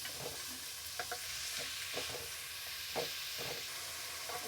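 Tomatoes fry in a pan for shavige upma, a soft continuous sizzle broken by repeated scraping stir strokes of a spoon, close and quiet, with no one speaking.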